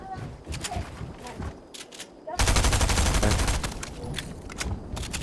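Bursts of rapid automatic gunfire in Fortnite, a quieter exchange of shots followed by a loud, sustained volley up close, with scattered shots continuing after.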